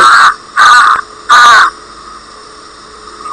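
Three loud, harsh crow caws in a row, each short and raspy, close by, with a faint background hum between them.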